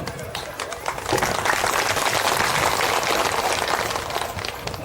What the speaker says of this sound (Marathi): फक्त ताईसाठी या बायाने टाळ्या वाजवल्या